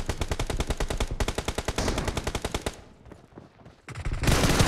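Rapid automatic gunfire in a team deathmatch shooter game, fast evenly spaced bursts close and loud, a short lull, then more shooting at the end.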